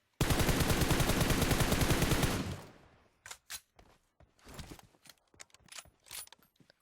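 Rapid automatic gunfire in PUBG Mobile, a loud sustained burst of closely spaced shots for about two seconds that tails off, followed by scattered quieter impacts and clicks.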